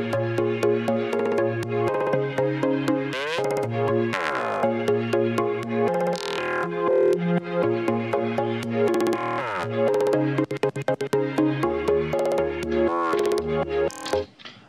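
A glitched, randomized electronic loop built in Bitwig with OTT processing, dense and loud throughout, with stuttering chops, sudden pitch jumps and abrupt cuts layered over sustained tones, no voices.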